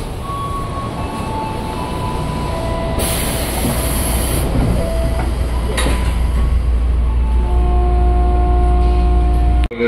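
Tokyo Metro 6020 series KRL commuter train running on the Cikarang line, a steady interior rumble of wheels and motors with whining tones and a brief squeal, heard from inside the carriage.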